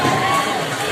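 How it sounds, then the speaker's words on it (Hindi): Loud crowd clapping and cheering greets a BJP campaign rally guest, a thick wash of applause with a raised voice ringing through it for a brief moment. "जोरदार तालियों से स्वागत करो।"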